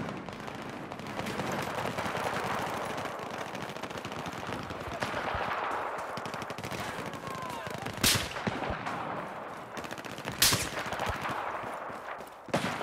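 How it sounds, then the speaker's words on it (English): Gunfire in the Battlefield 4 video game with a sniper firing: dense, loud gunfire keeps going throughout, with a couple of sharp, bright cracks standing out near the end. "Somebody's trying to snipe."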